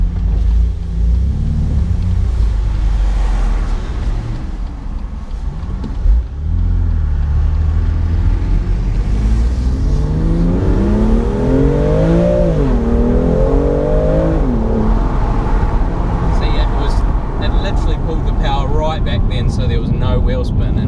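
A BMW M2 Competition engine revs and accelerates from inside the car, the engine note climbing and dipping in loud sweeps as people talk over it.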